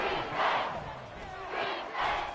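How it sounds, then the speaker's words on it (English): A packed Arrowhead Stadium football crowd roars in swelling, distant waves, rising and falling twice, with a commentator's voice faintly over it. "The Arrowhead crowd in full roar."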